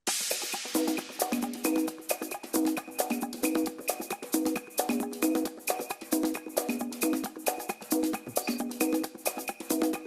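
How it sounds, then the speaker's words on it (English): A busy loop of Latin hand percussion for a ska-style track, crisp drum hits and shakers repeating in a steady, syncopated groove with no voices. "so you can hear all that Latin percussion we added"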